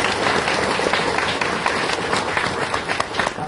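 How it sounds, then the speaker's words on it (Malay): An evening audience applauds a member of parliament at a panel event, with a steady mass of clapping across the whole stretch and faint murmuring underneath. "Kita beri tepukan kepada Yang Berhormat."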